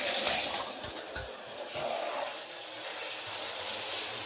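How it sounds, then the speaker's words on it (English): Shower head running water in a house bathroom, a steady hissing spray with a few faint knocks and splashes, continuous and moderately close, no voices. "Can you check the shower? Shower head."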